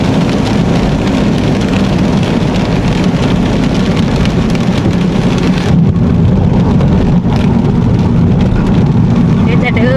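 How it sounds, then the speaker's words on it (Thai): Steady rain hisses loudly and continuously, mixed with road or engine rumble and a brief voice in the background. "ฝนตกนะจ้ะเนาะ"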